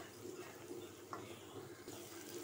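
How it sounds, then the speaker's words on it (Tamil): Water pours into a pan for instant tiffin sambar made without dal, a soft, steady, continuous trickle and splash heard faintly throughout. "இப்போது இதில் தேவையான அளவு நீங்கள் தண்ணி ஊற்றிக்கலாம்."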